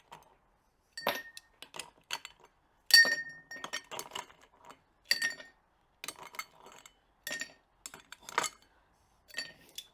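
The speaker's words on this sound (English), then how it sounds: "We're going to start with some ice in our mixing glass is what we're going to do." Ice cubes clinking against a cocktail mixing glass as they go in for a rye whiskey drink, a run of sharp, bright glassy chinks and rattles in irregular bursts, close and fairly loud with no talking.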